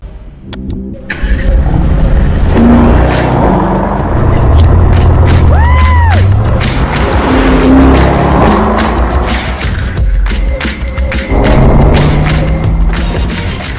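A Mercedes-AMG SL roadster fires up and revs, engine noise rising and falling through several throttle blips under a loud music bed, with occasional whooshing sweeps.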